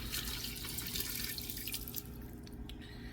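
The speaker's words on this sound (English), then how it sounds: "we're going to add some additional liquid back into our pot" Liquid streaming and splashing steadily into a pot of simmering collard greens, a continuous close pouring and dripping patter with no talk.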